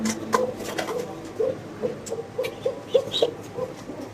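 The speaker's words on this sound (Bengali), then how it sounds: "এত সুন্দর কিউট কবুতরগুলো" Pigeons at a pigeon farm, including Belvet silk birds, give repeated soft, low coos in an irregular rhythm, close by and fairly clear, with faint rustling between calls and no talking.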